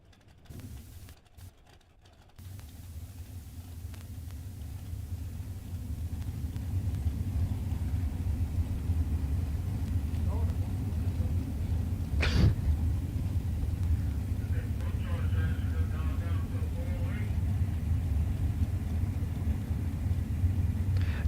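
Drag racing cars launch and run at the FuelTech SFG Super Bowl of Bracket Racing, heard as a distant, sustained engine roar and rumble that builds and holds steady.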